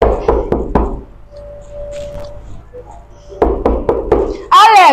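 Knocking on a door, a quick run of four sharp raps, a pause, then another burst of four raps, loud and close, with voices around the knocks.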